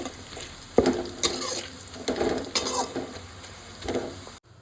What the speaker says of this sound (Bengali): ঠিক এই মুহূর্তেই আমি এলাচ, দারচিনি, 2টো তেজপাতা দিয়ে দেবো, দিয়ে একটু ভালো করে আবার নাড়বো